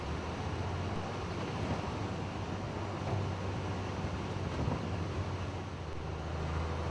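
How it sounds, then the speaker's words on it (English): A truck with a 10-speed transmission skipping gears on a downshift, heard as a steady low engine drone with a brief pitch change partway through, recorded under wind rumble. "Skipping gears in a downshift."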